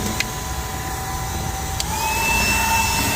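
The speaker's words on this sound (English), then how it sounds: "I'm just going to take my blower, this Milwaukee battery blower," A Milwaukee battery blower runs steadily while blowing debris out of an air conditioning unit, a close, continuous whooshing roar that swells slightly near the end.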